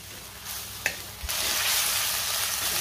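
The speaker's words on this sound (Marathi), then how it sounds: "2 ते 3 मिनिटं मी व्यवस्थित परतून घेणार आहे हे वाटण।" Masala paste fries in oil for chicken sukka, a steady close sizzle with a couple of brief stirring knocks, the frying growing louder and brighter partway through and then holding.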